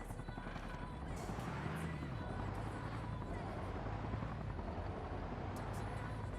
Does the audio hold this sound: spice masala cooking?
no